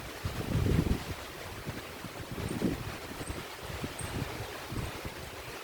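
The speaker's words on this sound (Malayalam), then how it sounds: "അപ്പം നല്ല മഴയും നല്ല കാറ്റും കേട്ടോ." Heavy rain with strong gusts of wind at home, a steady wash of broadband noise that swells with louder gusts, no voices.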